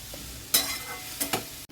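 Onions salted and lightly frying in a pan for a bhetki fish posto dish, giving a soft sizzle with a few sharp utensil scrapes and clatters against the pan.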